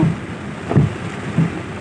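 A sudden heavy downpour of rain during a driver's last passenger trip: a steady broadband hiss with a few soft low thumps, moderately loud, with no speech.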